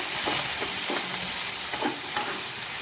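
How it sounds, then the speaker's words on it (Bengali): Bitter gourd fries in hot oil with bay leaf and dried chilli, sizzling steadily while a utensil stirs and scrapes the pan in short, irregular strokes. "করলাটা একটু ভাজা ভাজা হোক"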